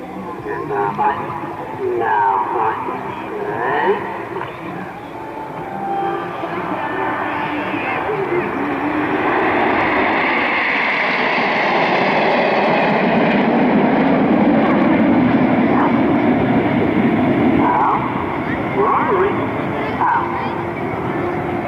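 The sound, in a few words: airshow display team aircraft flying overhead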